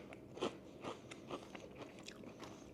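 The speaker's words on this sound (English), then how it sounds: "Nice crunch." Crunchy Australian sea salt potato crisps bitten and chewed up close: a series of sharp, crackly crunches at a rough, uneven rhythm, quiet but distinct, with no talking.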